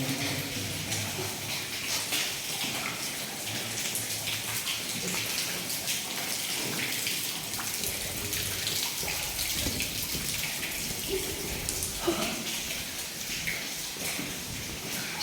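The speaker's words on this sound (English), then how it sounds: "And all water flows in here, but where's it going?" Water rushes continuously through a flooded underground tunnel in an abandoned mine, a dense, even hiss and splash that fills the space without pause, with no voices.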